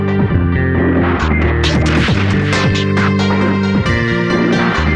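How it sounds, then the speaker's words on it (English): A Husqvarna K 970 power cutter grinds steadily through reinforced concrete, loud and close, its engine droning with shifting pitch as the blade bites, cutting a window and a hole for a structural H-beam. "we will cut a small window right through the reinforced concrete, followed by a hole for a structural H-beam"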